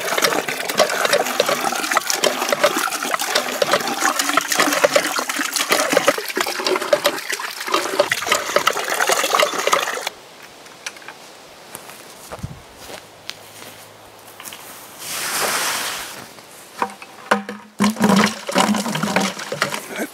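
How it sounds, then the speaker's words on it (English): Water splashes and gushes from an antique hand pump well into a bucket, with rhythmic pumping creaks and pouring in the first half. Quieter handling noises and a brief trickle follow. "And the more we pump this, the cleaner the water gets."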